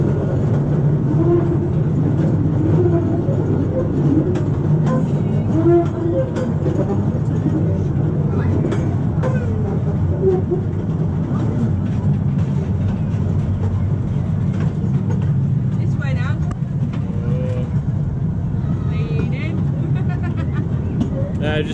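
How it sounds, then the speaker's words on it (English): A miniature train ride at an amusement park runs along with steady rumbling and clattering wheels under continuous nearby talk. "it's like the Virgin Pendolino, this miniature train. It's got some lean on it."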